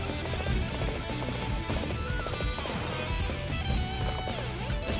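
A horse gallops with rapid clip-clop hoofbeats and neighs in the battle video game Dynasty Warriors 8, loud and continuous over dense game music and battle noise.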